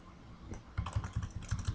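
Typing on a computer keyboard at a desk, a quick run of close, soft key clicks following a brief pause, with no talking.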